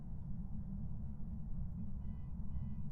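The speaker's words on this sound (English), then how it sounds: "I hear that car again." A car in the Phasmophobia ghost-hunting game gives a low, steady rumble that hums faintly and continuously in the background.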